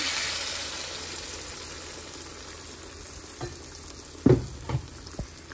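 Soft, steady sizzle of eggs frying in a non-stick pan, with a few light clinks and scrapes toward the end.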